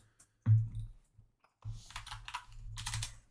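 Commands being typed on a computer keyboard: scattered single keystrokes, then a quick run of close, crisp clicks and taps, with no talk.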